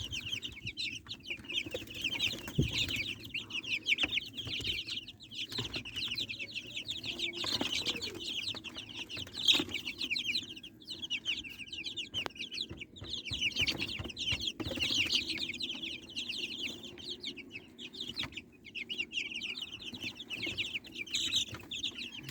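Twelve-day-old native breed chicks peep in a busy chorus of high, rapid chirps, overlapping continuously with occasional soft clucks and rustling nearby.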